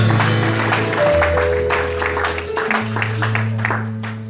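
A church congregation claps along during a French praise service, steady dense applause under sustained organ or keyboard tones, loud and close, with voices mixed in.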